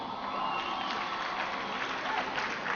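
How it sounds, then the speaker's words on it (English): An audience at the White House gives sustained applause during an AmeriCorps 20th anniversary celebration. The dense, even clapping carries a light murmur of crowd voices throughout. "Give Ivan a big round of applause for the introduction."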